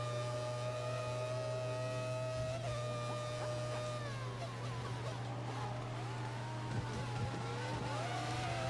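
Formula One race car engine at full revs in the F1 2014 game, modded to a 1998 season, a steady loud high whine with revs dipping and rising through corners, other cars faintly behind.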